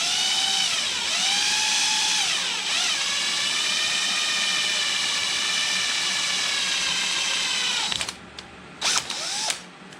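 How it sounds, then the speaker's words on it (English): A power drill whines steadily at high pitch for about eight seconds, drilling a hole in an aluminum coolant overflow tank, rising and falling slightly in speed, then stops and gives a couple of short bursts. "You want to make sure you drill another hole on the top side."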